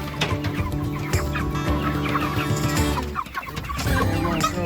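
Broiler chickens in a pasture tractor cluck steadily in a dense, overlapping chorus, close and fairly loud throughout with no talking.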